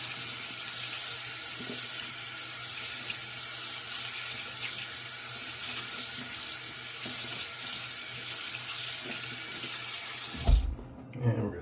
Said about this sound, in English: Get this tub rinsed out.